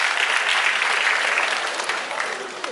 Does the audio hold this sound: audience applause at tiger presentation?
yes